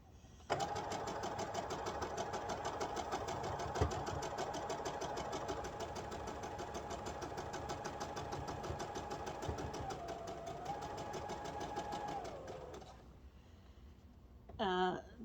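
A sewing machine stitches straight quilt seams in a long, even, rapid mechanical whir, slowing and stopping near the end, followed by a brief handling rustle.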